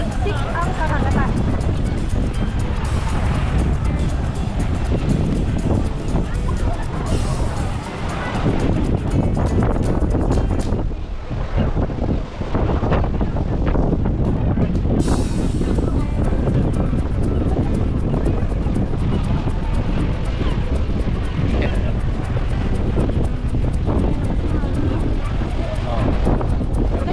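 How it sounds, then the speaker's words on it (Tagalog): Strong wind roars into the microphone over crashing Baltic Sea waves at Mielno, Poland, a constant loud rush with people talking underneath. "Lakas ng alon."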